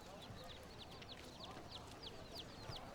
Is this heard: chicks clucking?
yes